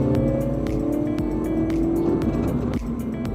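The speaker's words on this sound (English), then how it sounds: "Like, this engine noise" A Mini Cooper JCW sports car engine drones loudly and steadily, its pitch rising and falling slightly, with a brief dip near the end.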